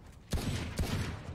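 Two sharp, loud gunshots ring out about half a second apart in the video game Valorant, each followed by a short ringing tail.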